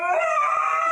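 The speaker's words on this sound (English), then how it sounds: "I got a lot of dogs in my house" Dogs howl inside a house in a video game, one brief sustained tonal howl that is loud and close, heard alone.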